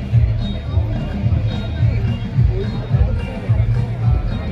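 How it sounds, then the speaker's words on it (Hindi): Crowd hubbub at the Kalagram craft fair, a dense babble of many voices close by with a nearer voice talking over it. "ये देखे कितनी भीड़ है।"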